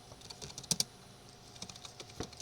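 Quiet keystrokes on a computer keyboard, scattered light taps with a couple of sharper double presses near the middle, close and alone in a calm room.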